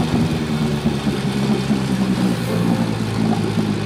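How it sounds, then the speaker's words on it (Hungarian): A sailboat's motor runs steadily at a harbour on Lake Balaton, a low droning engine hum with a slight rise in pitch, fairly close and continuous throughout. "A motor felpörög, a kötelek eloldva, mindenki a fedélzeten"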